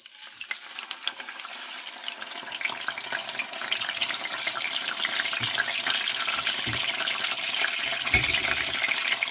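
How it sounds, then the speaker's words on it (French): Marinated sea bream seasoned with salt and pepper frying in a pan, a bright continuous sizzle that swells and crackles, with a few low knocks near the end and no talking. "je fais cuire un poisson tout seul et un poisson pané"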